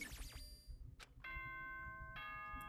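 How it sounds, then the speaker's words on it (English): An electronic ding-dong chime from the video game Danganronpa: Trigger Happy Havoc rings out in bright bell-like tones, first sweeping notes and then sustained sequences of clear pitched tones, fairly quiet with no voices. "There it is. The ding dong bing bong."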